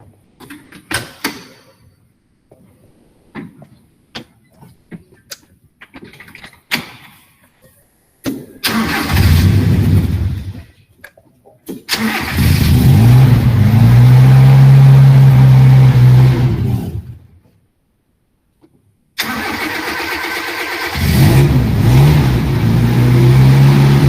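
A car engine is cranked and started several times after a quiet stretch of clicks, rumbling and revving loudly, cutting out, then catching and running again. The car has an idle fault and stalls once the gas pedal is released.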